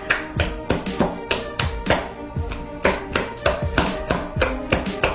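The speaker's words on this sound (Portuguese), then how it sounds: "Isso aqui você vai bater a sua cuca." Soft, sticky German cuca cake dough beaten by hand with a loose wrist, giving steady rhythmic slapping taps, close and fairly loud, repeating about twice a second without a break.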